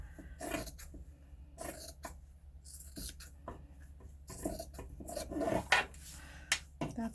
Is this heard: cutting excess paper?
yes